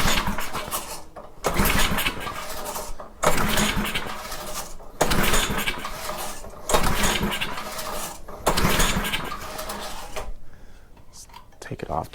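A front-tine rototiller's small engine, on choke at full throttle, is pull-started repeatedly: about six rough bursts of sputtering engine noise, each a second or two long, separated by short gaps, loud and close.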